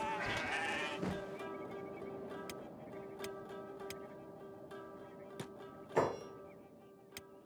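Goats in the video game Kenshi bleat in a couple of quavering calls early on, followed by sparse sharp ticks and clicks over a faint steady hum.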